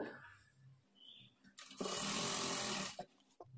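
A sewing machine stitches a seam on a Punjabi dress pant leg, a short steady whir of just over a second following quiet handling noises.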